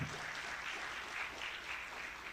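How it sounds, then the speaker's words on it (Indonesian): Audience applause fills a hall, a steady dense clapping from a crowd at an intellectual talk, moderately loud and continuous throughout with no voices over it. "Tepuk tangan."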